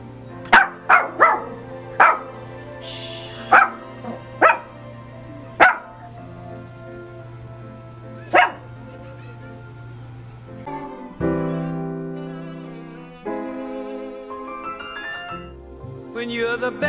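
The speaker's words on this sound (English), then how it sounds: "Zoe, what are you barking at?" A dog barks repeatedly in sharp, loud bursts, spaced irregularly over music, before the barking stops and the music continues alone.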